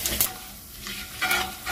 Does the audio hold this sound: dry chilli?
yes